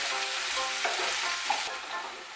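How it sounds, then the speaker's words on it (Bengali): Drumstick curry fries in a pan with a loud, steady sizzle as salt is stirred in, the spatula scraping close by; no voices. "দিয়ে নুনটা ভালো করে মিশিয়ে নেব।"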